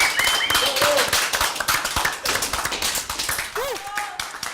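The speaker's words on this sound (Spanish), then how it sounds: "damos un fuerte aplauso acá." A studio audience breaks into applause, with a dense burst of clapping at close range overlapping a speaking voice, fading slightly toward the end.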